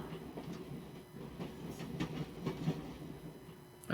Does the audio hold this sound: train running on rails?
yes